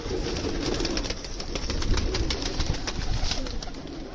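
Pigeons coo and flutter near at hand after being given grain, a steady soft murmur with scattered sharp taps and wing flicks throughout, and no voices.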